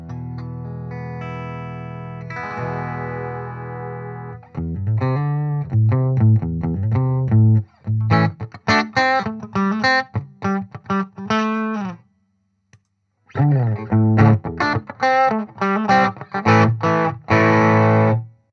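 A Rubato Guitars Lassie electric guitar with heavy-gauge strings and no truss rod plays through an amp with reverb from an Ocean's 11, first ringing sustained chords, then loud distorted riffs and strummed passages with a short pause midway.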